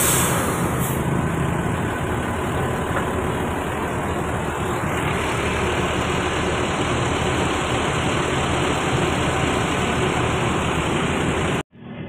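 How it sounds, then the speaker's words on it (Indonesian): Riding aboard a Trans Semanggi Suroboyo city bus in Surabaya, the engine and road noise form a steady, broadband drone that fills the cabin for the whole stretch, ending in a brief cutoff. "Akhirnya ini saya naik bus Trans Semangginya sambil bersama dengan beberapa orang yang menuju ke arah ITS."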